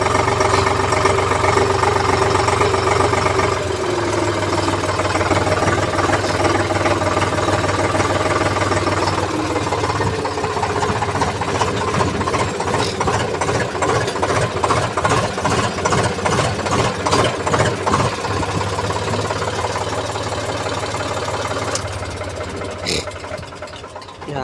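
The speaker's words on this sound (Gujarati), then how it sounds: "આપણે હવે ટ્રેક્ટર મૂકી દઈએ" A tractor's engine runs on a farm field during the sesame harvest, a loud, steady idling drone that turns into a rhythmic, pulsing chug partway through.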